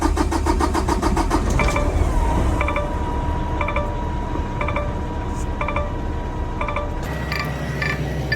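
A Kenworth T680 truck engine cranks and fires up, the loud rumbling start settling into a steady diesel idle, with repeated short chiming warning beeps over it and a shift in tone near the end.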